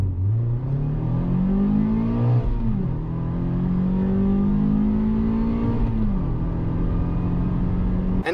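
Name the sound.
Mazda MX-5 Roadster engine sounding normally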